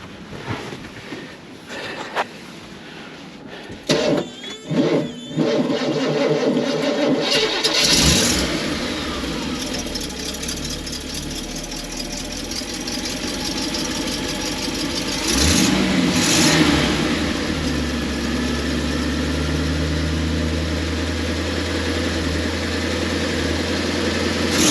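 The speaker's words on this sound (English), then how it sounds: "The little motor sounds pretty good." A 1976 GMC Transmode motorhome engine cranks with a few clicks, catches and starts, then settles into a steady rumbling idle with slight swells in revs, close and alone.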